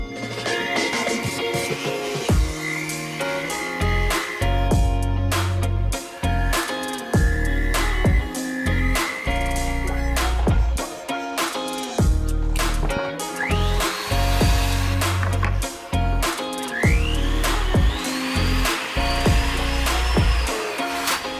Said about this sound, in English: take our white wheel, our gray wheel, and then our buff and get it to a high shine